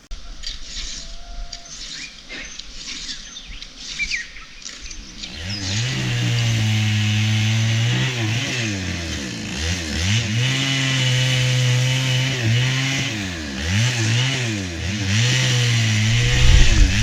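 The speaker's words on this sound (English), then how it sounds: "we got someone from the village who has a chainsaw to come and cut the logs" After a few quiet seconds a chainsaw starts and runs loud and close, its engine rising and dipping as it cuts through logs.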